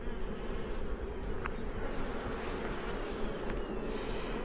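Honey bees buzz continuously around an open hive during an inspection, a dense, steady drone of many insects close by with no voices.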